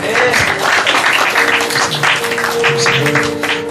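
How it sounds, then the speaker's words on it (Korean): A church congregation gives a sustained burst of applause during an afternoon service, the dense clapping steady throughout with voices mixed in. "다시 한번 박수해 주세요."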